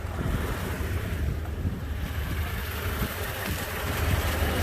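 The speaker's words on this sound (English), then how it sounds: "Sorry it's windy and it's a little loud" Strong wind buffets an outdoor microphone, a continuous low rumbling roar with gusty swells, loud and close throughout with no voices.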